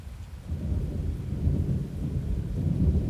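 Rain and low thunder roll through a Roblox thunderstorm, a steady dense wash of rainfall with a deep rumble swelling in after a quiet start and holding loud to the end.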